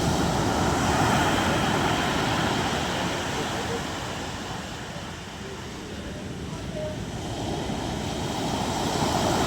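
Broad, steady roar of ocean surf breaking at the shore near a fish terminal in Tanza, Cavite, in stormy weather, with wind noise and swells that dip and build again throughout.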